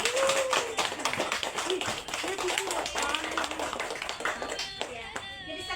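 Children in a classroom clap together for a classmate named Reski, a quick, lively burst of small hands patting that gradually thins out, with a voice speaking over the start.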